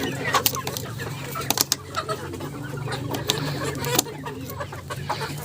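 Local chickens cluck softly in a freshly fixed-up coop, with short clucks and scattered sharp knocks or taps, moderately close over a low steady background hum.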